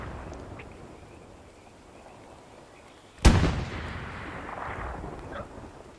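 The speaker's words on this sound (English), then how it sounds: "Shots have been close on Aviator's tank" A single loud tank cannon blast in the Hell Let Loose video game, a sharp boom with a rolling tail that fades over a couple of seconds, preceded by quiet ambient battlefield noise.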